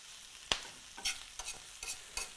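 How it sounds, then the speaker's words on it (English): Kale wilts in a hot pan under a soft sizzle, and a utensil stirs it in about half a dozen distinct scraping strokes. "we're going to add the kale to the pan"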